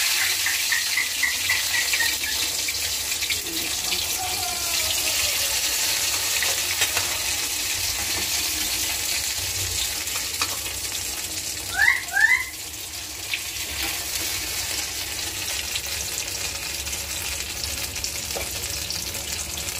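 Eggplant pieces frying in oil on a gas stove, giving a steady, even sizzle with a few faint clinks and stirring sounds partway through.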